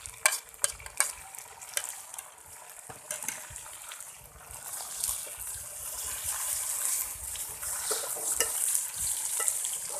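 Ginger-garlic paste, green chillies and tomatoes sizzle and crackle in a hot pan, with stirring clatter and scraping; the frying grows louder and hissier partway through.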